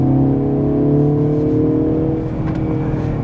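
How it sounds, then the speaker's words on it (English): A 2024 Mercedes CLE in sport mode taking a corner, its engine giving a steady, loud droning hum with layered tones heard from inside the cabin, no voices over it. "Definitely more engine sound than in the C300."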